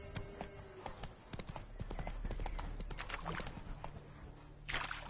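Roach the horse trots through The Witcher game world, hooves clip-clopping in a quick, steady rhythm close by over soft ambient background, with a brief louder rustle near the end.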